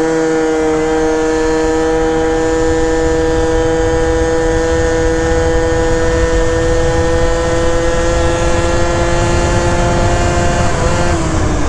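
A tuned 70cc Yamaha Zuma scooter with a Stage 6 Minarelli engine and CVT tuning launches from a dead stop, its engine note loud and steady, a high buzzing whine that holds and then dips near the end.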